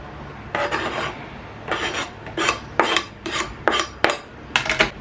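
A knife chops through a whole head of crisp lettuce in several quick bursts of rasping cuts, close by, with short pauses between strokes and no talking.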